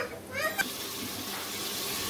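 A little water goes into tomatoes cooking in a pan of hot oil with onions while tori ki sabzi is being made. A short splash gives way to a steady, loud sizzle that fills the rest.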